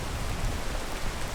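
Steady, dense rain downpour in the video game PEAK, an even wash of falling water with no letup, fairly loud and alone without voices.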